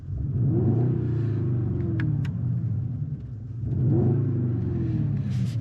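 A 2021 Mercedes GLE 63 engine revs twice, each deep rumbling swell climbing and easing off in loud close-up exhaust bursts with no talking over them.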